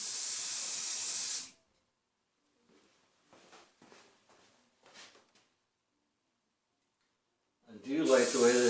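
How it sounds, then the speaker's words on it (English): Short hissing bursts from a sprayer laying a thin, accurate stream of coating, a few soft spurts in the middle, with louder talking at the start and end. "I do like the way this spray is coming out"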